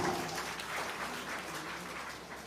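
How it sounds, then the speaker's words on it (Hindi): Faint, distant applause from the crowd at an election rally, a soft continuous patter of clapping hands. "तो जोरदार तालियां बजाना चाहता हूं आपकी"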